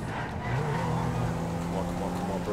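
A BMW driven fast in a video game, its engine giving a steady, rising drone of speed throughout this short stretch, fairly loud with no pauses.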